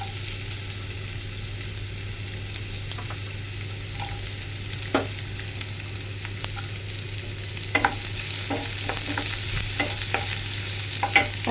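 Ginger and onion fry in a pan and are stirred, giving a steady sizzle over a low hum, with scattered spatula taps and scrapes that grow busier toward the end.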